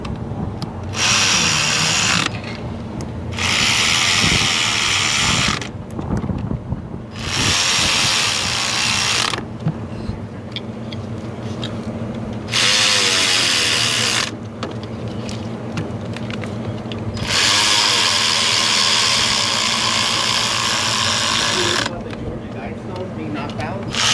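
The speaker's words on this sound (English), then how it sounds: "I'm gonna use the ratchet to tighten these, the electric one, just to save my hand." An electric ratchet tightens valve cover bolts on a 2003 Ford F450 with a 6.0 engine, whirring in loud repeated bursts of a few seconds each, separated by short pauses with quieter clinking and talk.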